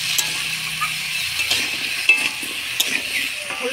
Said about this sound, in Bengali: হলুদ লবণ দিয়ে পেঁপেটা ভালো করে নাড়াচাড়া করে নিলাম